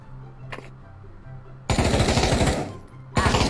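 Gunfire in the VR game Pavlov: a single quiet shot, then two loud bursts of rapid automatic fire, the first lasting about a second, the second starting near the end, over faint background hum.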